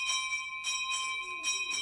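College bells ring in a radio drama, bright metallic tones pulsing in regular strokes with a steady high sustained ring beneath.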